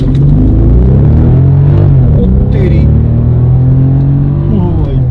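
A 576bhp 6000cc W12 car engine rumbles loudly and close up, with a deep, throbbing idle and rising revs throughout, and someone talks over it.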